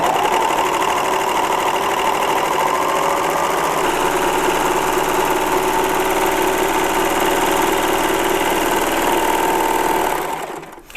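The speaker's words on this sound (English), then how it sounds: "Now when I stitch along the edge and I create a rolled hem, I always want to cut off a little something." A serger sewing machine runs steadily as it stitches a rolled hem along a fabric edge with its side cutter trimming, a loud, fast, even mechanical whir held close for about ten seconds before winding down.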